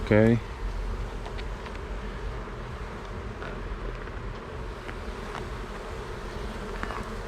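Honey bees buzz steadily around an opened hive during an inspection of a four-frame nucleus colony, a dense close swarm drone with scattered individual bees passing near, continuing throughout with no talk.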